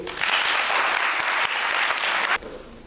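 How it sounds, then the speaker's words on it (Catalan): Audience applause follows a school's classical theatre performance at a gala, dense and steady clapping from a sizeable crowd that cuts off abruptly near the end. "Espectadors, si us ha agradat, aplaudiu."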